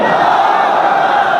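Large crowd at an Islamic tafsir gathering in Penang, Malaysia, answering a takbir call with a loud, unified chant, one sustained burst of many voices.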